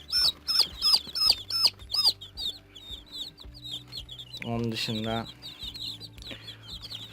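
Village chicks cheep in quick, high repeated peeps while hens cluck nearby, and a person speaks briefly over the birds.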